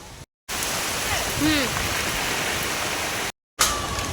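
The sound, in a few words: rain falling during a storm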